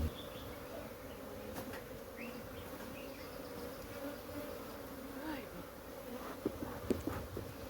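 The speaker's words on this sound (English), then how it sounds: "The amount of bees in this box just amazes me." Honeybees packed in a hive box buzz in a constant, low, close drone, with occasional soft knocks and faint higher chirps above it.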